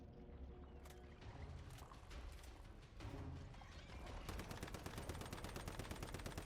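Rapid automatic fire from a SCAR rifle in the survival shooter Once Human, loud and sustained, with bursts early on that settle into a dense, steady stream of shots over the last seconds.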